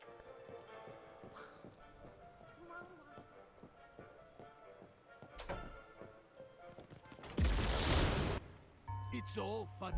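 Bombs exploding in the Dark Deception horror game, a few sudden blasts, one long loud burst, set against a rhythmic ticking background, with someone talking.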